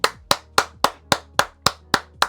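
A single person claps steadily about nine times in an even rhythm, each clap sharp and close, alone without any talk, after a camera focus test during a One Piece admiral figure unboxing.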